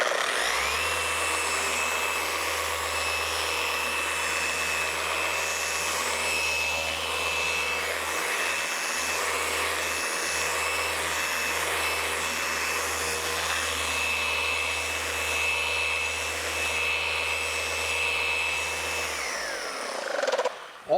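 Paint correction polishing machine buffing car paint, a steady, continuous electric whir held for about twenty seconds at even volume, then cutting off at the end.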